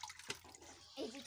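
Water splashing and sloshing as sweet potatoes are washed by hand, a continuous moderate wash of liquid sound with a brief splash and gurgle, no talking.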